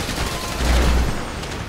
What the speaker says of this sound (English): You hear that gunfire? That's how I'm doing.